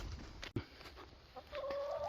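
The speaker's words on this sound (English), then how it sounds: "let's check on our chickens" Backyard chickens cluck in short, scattered calls, with a thump and a rising sustained call near the end, fairly faint and with no talking.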